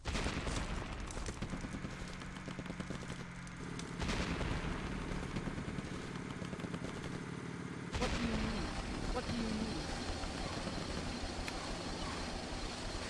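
Gunfire in the real-time strategy video game Enemy Nations, a continuous low rumble of shots and explosions that shifts in density, fairly quiet and heard without talking.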